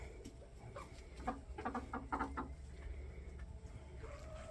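Backyard chickens cluck softly in short scattered bursts nearby, low and fairly quiet over a murmuring background.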